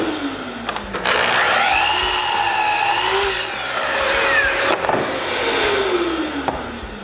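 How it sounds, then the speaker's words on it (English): A power saw cuts a 2x4 wooden board to a 6-inch length in a home workshop. A loud, close whine and rasp lasts several seconds as the blade bites through the wood, then eases off. No one speaks. "Now that I have 6 2x4s with one side straight, I cut one in length of 6 inches."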